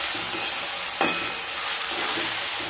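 Chopped tomato and salt are stir-fried in a pan, a steady close sizzle with a few sharp scrapes and clatters of a spatula against the metal, no voices.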